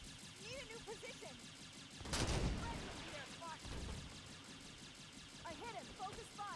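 Bolt shot gunfire in Halo 5: Guardians, a legendary mission, sounds as a heavy burst of blasts mid-clip amid chirpy game effects and background chatter, with a second smaller burst afterward.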